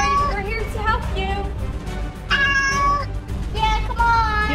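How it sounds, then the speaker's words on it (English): A cat stuck up on a wall meows loudly and close by, giving several drawn-out, plaintive cries in a row. "There is a cat on the wall and she can't get off."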